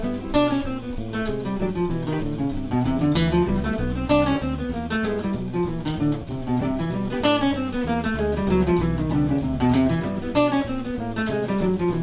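A jazz guitar plays a preparatory exercise in quick, flowing, bop-style arpeggio lines at a brisk tempo, clear and steady with no talking.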